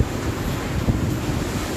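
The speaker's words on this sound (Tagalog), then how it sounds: "Nag-iikot ang hangin dito sa aming location." Super Typhoon Rolly (Goni) batters Naga City with loud, swirling wind, a heavy roar buffeting the microphone in uneven gusts with no voices.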